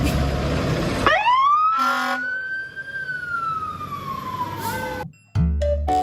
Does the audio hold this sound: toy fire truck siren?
yes